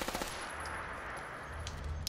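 HK MP7 submachine gun from a Fallout 4 mod firing, a rapid fast burst of shots at the start, then a sustained dull roar with a few faint later pops.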